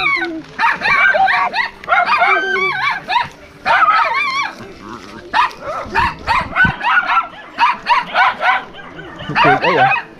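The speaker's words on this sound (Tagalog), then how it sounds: "Daming aso dito, mga boys." Several dogs bark and yip in rapid, overlapping bursts, close and loud, with people talking among them.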